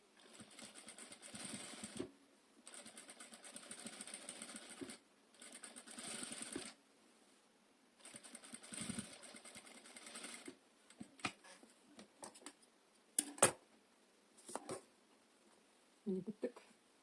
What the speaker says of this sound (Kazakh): Енді оң жағынан бастырып тігіп шығамыз.